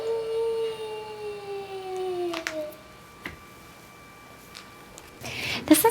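A recorded wolf howl played from a baby's animal sound book, a thin electronic wail gliding slowly downward, followed by quiet handling clicks and taps.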